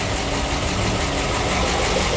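A PAZ-672 bus engine idles close and loud in a steady, even rumble for a couple of seconds, with no voices.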